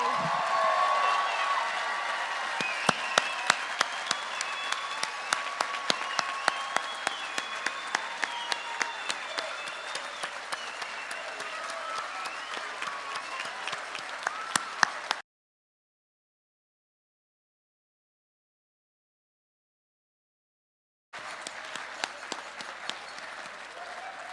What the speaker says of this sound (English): can we hear a round of applause for all the graduates today?